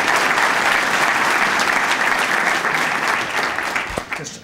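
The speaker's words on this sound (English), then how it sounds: "Let's hold the applause till the end." At a formal presentation, an audience claps in a dense, sustained burst that holds steady and then fades slightly near the end, just before a speaker cuts in.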